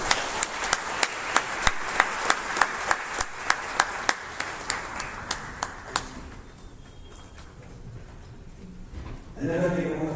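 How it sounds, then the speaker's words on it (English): An audience at an orientation program claps together in a slow, rhythmic unison beat, each clap sharp and evenly spaced for about six seconds before dying away, followed by a voice. "Another big round of applause for him."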